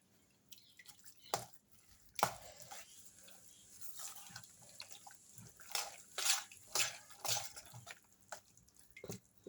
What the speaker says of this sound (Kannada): ನೋಡಿ ನೀರು ಹಾಕ್ಕೊಳ್ತಾ ಇದ್ದೀನಿ ನಾನು ಸ್ವಲ್ಪ ಹಾಕಿದ್ದೀನಿ